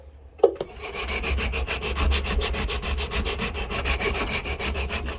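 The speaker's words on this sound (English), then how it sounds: "Sanding it, just cleaning it up and getting it roughly to the shape I want." Sandpaper rubs rhythmically against the wooden handle of an Opinel No12 knife in quick back-and-forth strokes, close and steady after a single knock at the start.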